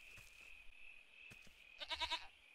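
A goat bleats several times in quick succession, a short wavering cry near the end, within the farming survival video game Force of Nature, with a steady high electronic whine running underneath and little else around it.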